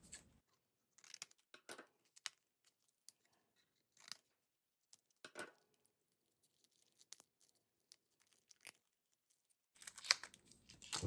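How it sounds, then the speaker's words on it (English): Shrink-wrapped packaging around a SanDisk 256GB SD card being cut open, with scattered snips, crinkles and tearing plastic coming in short bursts and close to the microphone, louder rustling at the end. "so we'll have to cut this open."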